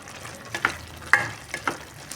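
A spoon stirs washed poha (flattened rice) into boiling vegetables for avalakki bath, giving four short, close scraping clacks spaced about half a second apart over a soft simmering hiss.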